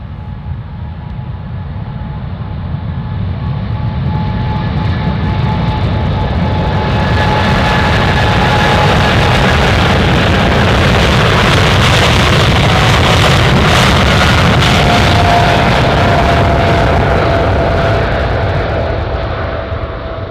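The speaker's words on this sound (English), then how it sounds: "747 taking off." A Boeing 747 takes off at Anchorage airport, its jet engines building into a loud, sustained roar that swells midway and holds steady, broad and powerful, with no voices over it.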